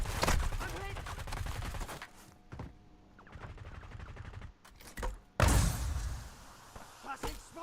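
Automatic gunfire in the Warzone video game, dense rapid bursts at the start and again later, with quieter gaps between them and players talking over the shooting.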